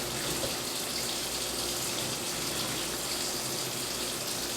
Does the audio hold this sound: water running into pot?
yes